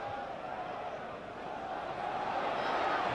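Football stadium crowd at an Arsenal versus Manchester United match in the 1993/94 season, a steady roar and applause from the packed stands that swells slightly toward the end, with a commentator talking over it.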